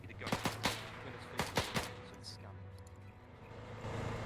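Several sharp gunshots crack in quick bursts over a steady low tank engine hum in the video game Arma 3, fairly loud, with quieter background rumble afterward.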